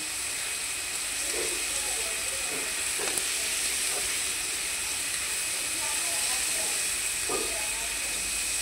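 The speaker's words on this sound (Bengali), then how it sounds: "এটাকে ভেজে নেব ভালো করে।" Pumpkin leaf fritters frying in hot oil, giving a steady, close sizzling hiss with occasional soft pops throughout.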